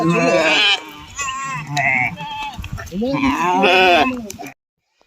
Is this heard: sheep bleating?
yes